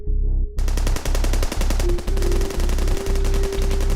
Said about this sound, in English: the gunshots awoke the armed groups in the area.